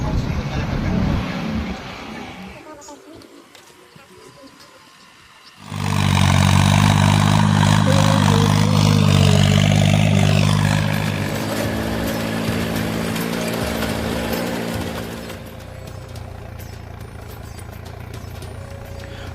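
A tractor works a farm field during mung sowing after the paddy harvest; after a quieter opening with some voice, the engine kicks in loud and close, roars steadily for about ten seconds, then settles to a lower running hum.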